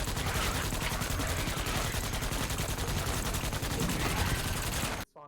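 Sustained rapid machine gun fire from a manned MG in Starship Troopers: Extermination, a dense unbroken stream of shots aimed at arachnid bugs, loud and close, cutting off abruptly near the end.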